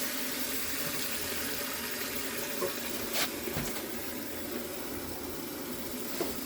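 Water rushes steadily into a toilet tank through its fill valve during a leak repair, a continuous hissing flow heard up close with a few faint knocks over it.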